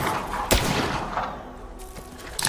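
Gunshots ring out in Borderlands 3, with a sharp loud crack early, a softer shot after, and another burst at the end, all over a busy, rumbling game backdrop.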